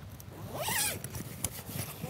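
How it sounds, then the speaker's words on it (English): A single zipper is pulled along a carp fishing kit bag fitted to a Sonik SK-TEK rod transporter, one quiet close rasp followed by small handling noises. "Nice and easy zips."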